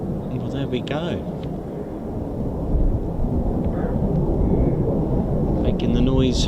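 An F-35B stealth fighter of the 809 Naval Air Squadron at RAF Marham roars with a deep, rumbling thunder that builds and holds, while someone speaks over it.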